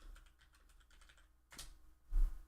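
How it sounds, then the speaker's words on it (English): Fingers type on a computer keyboard in quick, soft, close clatters, with a louder key press or two near the end. "I'm typing."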